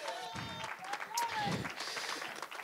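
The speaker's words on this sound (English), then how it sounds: "Somebody get the Lord a hand clap of praise." Church congregation clapping hands in praise, a brief mixed wash of applause with voices calling out over it.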